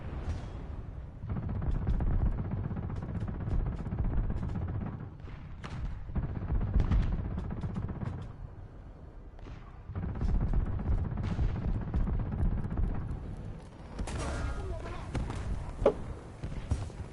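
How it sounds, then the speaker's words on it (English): Tank cannon fire and battle noise from War Thunder, rumbling and dense throughout with heavy low-end blasts, a brief lull midway and a sharper burst near the end, with a voice talking over it. "I was shooting the barrel of the Samua and did nothing to it"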